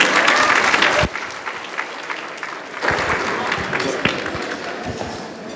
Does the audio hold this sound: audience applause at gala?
yes